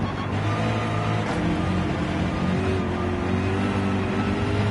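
A race car engine droning steadily at Watkins Glen in Gran Turismo 7, a loud continuous drone holding near constant pitch throughout, no talking.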